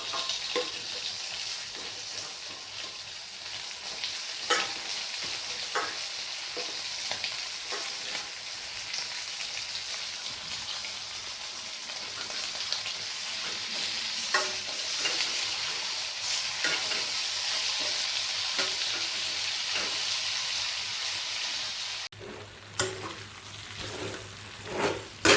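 Pork liver frying in a pan with ginger and spices gives a continuous bright sizzle, broken by frequent scraping clicks of a spatula stirring, close and moderately quiet with no voices.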